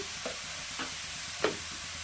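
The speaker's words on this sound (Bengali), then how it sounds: "এবার ভালো করে কষিয়ে নেবো, কষাতেই হয়ে যাবে, আরো জল বেরোবে এর থেকে।" Spices and ol kopi ghonto, a Bengali yam and cauliflower dish seasoned with salt, turmeric and a little sugar, being stirred in a pan, with a soft steady sizzle under a few scraping strokes, one louder than the rest.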